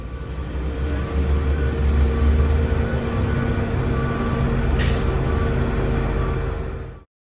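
Street construction work outside an office window: a steady low rumble of heavy machinery and traffic, with a brief high hiss near the end, heard from indoors at moderate level.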